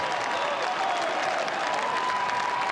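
A home rugby crowd at a Connacht PRO12 match roars and applauds after a try, a broad sustained wash of cheering and clapping heard from a distance at moderate level.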